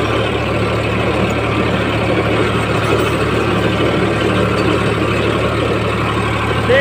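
An Eicher 551 tractor engine pulls away in first gear, a loud, steady diesel drone holding close and even throughout with no break in the rumble.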